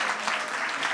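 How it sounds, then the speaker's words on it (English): Church congregation clapping hands together for a short moment, a dense, steady wash of applause with no pauses and nothing else standing out. "Give a hand clap to Jesus."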